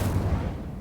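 An Incendio fire spell is cast in Hogwarts Legacy, producing a brief, loud, dense whoosh of roaring flame with a heavy low rumble.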